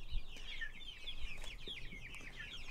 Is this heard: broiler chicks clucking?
yes